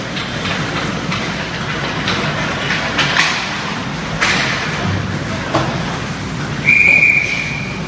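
A referee's whistle shrills briefly at an ice hockey game, a clear sustained blast near the end above steady arena rumble and crowd noise, with earlier thumps of play.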